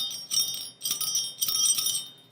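Bright, high ringing tones of a single bell struck three times in succession, each shimmering briefly before fading, with nothing else audible.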